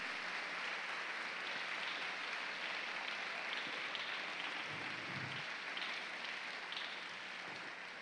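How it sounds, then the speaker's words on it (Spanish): Faint, continuous clapping from a large congregation at a Christian convention service, a soft, steady crackle of many hands heard from afar. "Dele fuerte aplauso a Cristo en el nombre de Jesús."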